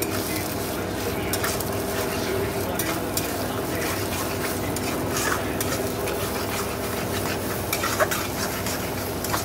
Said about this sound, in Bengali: দেখো 2টো ডিমও দিয়ে দিয়েছি।